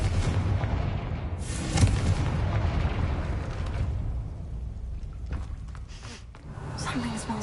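A Confringo blasting spell detonates in Hogwarts Legacy near a gate: a heavy boom and burst of debris followed by rumbling decay, with a voice speaking over parts of it.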